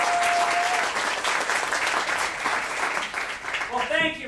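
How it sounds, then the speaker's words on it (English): A live show's audience breaks into a burst of applause, dense clapping filling the room for several seconds before a voice begins to speak near the end. "can I get a big round of applause to start the show?"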